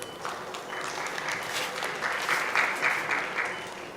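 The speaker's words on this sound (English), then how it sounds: "A round of applause, please." Audience applause at an ophthalmology conference session, steady and moderately loud for about four seconds, swelling slightly toward the end, with a faint voice briefly underneath.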